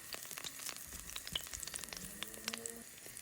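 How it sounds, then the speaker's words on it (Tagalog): Garlic sautés in olive oil, crackling and sizzling continuously with dense bursts of small pops, close but fairly quiet, with no voices. "Igigisa natin o ipiprito natin ng konti."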